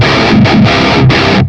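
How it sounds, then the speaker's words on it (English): Heavily distorted electric guitar in a drop tuning plays a short, loud riff of sustained chords with brief gaps between them, ending in a quick cutoff. "A really nice sound with a lot of distortion"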